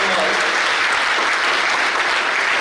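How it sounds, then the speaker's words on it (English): Dense applause from a conference audience fills the space, continuous clapping at steady loudness for a few seconds. "I would like to give you a big round of applause for taking time out"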